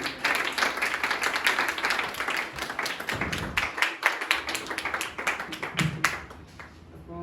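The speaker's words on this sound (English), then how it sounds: "Clapping should be continued for Manthan." An audience at an English speaking practice academy applauds a student, with dense, continuous clapping from many hands that stays loud throughout before thinning out slightly at the end.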